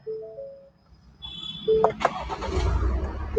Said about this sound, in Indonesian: kita nyalain dulu ya. Sekalian kita dengar suara mesinnya